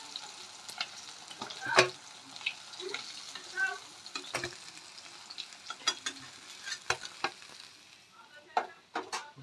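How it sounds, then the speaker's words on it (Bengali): Pieces of catla fish fry in hot oil, giving a steady crackling sizzle broken by sharp pops and spatters, close and fairly loud with no talking. "আমাদের এই পিঠটা মাছটা লাল করে ভাজা হয়ে গেছে।"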